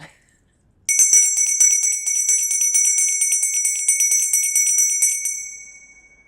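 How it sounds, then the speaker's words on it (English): A bell is rung to clear energy before a reading, giving a bright, sustained ringing tone with rapid shimmering pulses that holds for several seconds and then fades out. "I am going to ring a bell, clear your energy"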